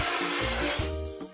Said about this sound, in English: Let's paint over the discoloration.